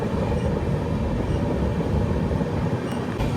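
Coromandel Express passenger train running near Simhachalam North close to Visakhapatnam, a steady loud low rumble of wheels and carriage from on board, continuous without pauses.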